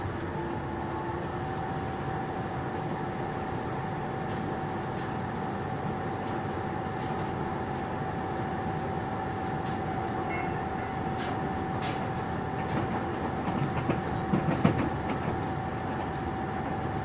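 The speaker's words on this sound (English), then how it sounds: "The sound of the train running itself is background music." A train rumbles steadily along the rails from inside a carriage, a constant low roar with a faint tonal whine and occasional soft clicks and rattles.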